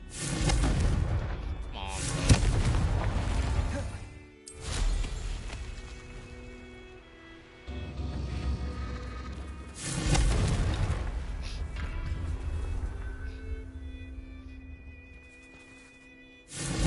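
Booming explosive Confringo spell blasts in Hogwarts Legacy, several loud detonations spaced a few seconds apart, each trailing off into a rumbling decay.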